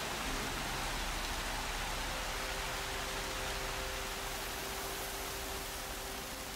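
Heavy rain pours steadily in the video game Horizon Zero Dawn, a dense, even hiss of downpour that never lets up, with a faint steady tone running beneath it.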